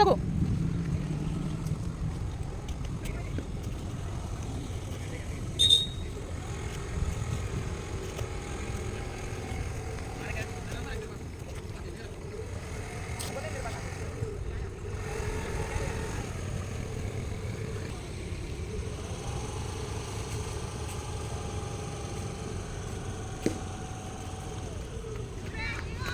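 During a riding lesson, a scooter engine hums low and steady at idle with slight rises in revs. An instructor talks over it now and then.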